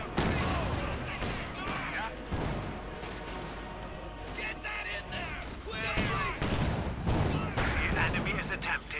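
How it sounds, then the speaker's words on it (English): Artillery barrage in Company of Heroes 2, a pack howitzer strike landing amid battle noise: repeated heavy booms and crackling gunfire throughout, dense and loud, mixed with game sounds and a commentator's voice. "Artillery strike going in as well."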